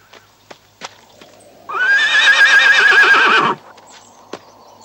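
A horse gives one long, loud whinny lasting a couple of seconds, with a few sharp knocks and clops before and after it.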